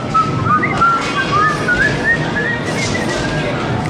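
Someone whistles a quick, wavering melodic phrase up close, the notes sliding and rising over a faint background murmur.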